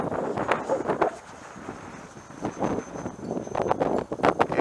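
Gusty wind buffets the microphone at an RC jet flying field on a windy day, with irregular loud rumbling bursts and rustling, close and uneven throughout.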